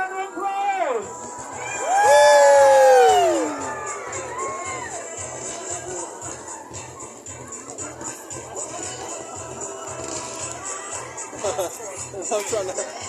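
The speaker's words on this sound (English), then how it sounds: "Give yourselves a big round of applause." A crowd at a November fireworks display in Kent cheers and whoops loudly just after a countdown, then settles into a steady background murmur with scattered shouts, while nearby voices talk over it.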